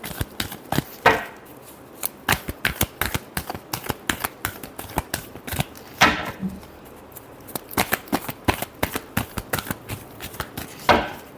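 A deck of tarot cards shuffled by hand, rapid irregular bursts of crisp riffling clicks and slaps repeating close to the microphone, with no talking.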